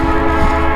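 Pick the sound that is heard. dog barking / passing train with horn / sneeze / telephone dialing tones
passing train with horn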